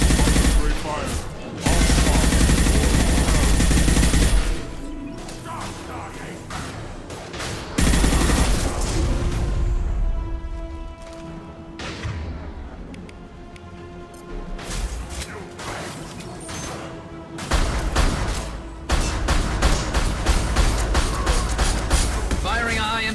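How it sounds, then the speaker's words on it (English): Loud video game gunfire from Mass Effect, with bursts of heavy weapon fire, crashes and impacts coming in several waves, mixed with voices talking and shouting over the combat. "Firing a high-impact shot."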